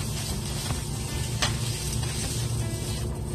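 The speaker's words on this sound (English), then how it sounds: "Bringing them to a sizzle." Steady, loud sizzling of garlic, ginger, scallion and onion frying in hot oil, a continuous crackling hiss with a few sharper pops, no voices.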